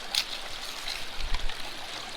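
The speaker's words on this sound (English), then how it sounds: "Got a good flow, and yeah, let the river take care of the rest" River water rushes through a gold sluice box, a close, steady splashing and gurgling flow with small surges.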